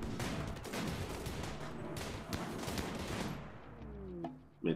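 Rapid bursts of gunfire in the game RimWorld, a dense crackling fusillade that fades out near the end, followed by a single sharp report.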